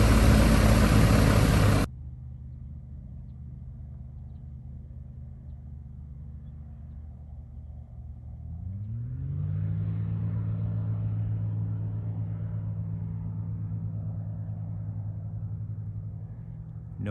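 A Zenith Cruiser light aircraft powers up for takeoff from a gravel strip, its propeller engine rising from a steady idle drone into a loud, sustained roar that holds steady.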